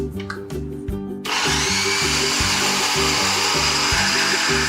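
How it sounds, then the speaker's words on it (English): A food processor on its chop setting whirs loudly and continuously, blending oil and cheese into spicy pesto, starting after a short burst of rattling. "turn your food processor back onto that chop setting and just let it go until all those oils and the cheese is nice and blended in"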